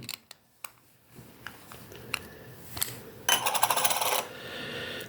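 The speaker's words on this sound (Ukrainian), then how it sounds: "Так, переходимо до реверсу монети." A few sharp metallic clicks and taps, then a short burst of rapid clinking as a Ukrainian 2019 5-hryvnia coin is turned over close up.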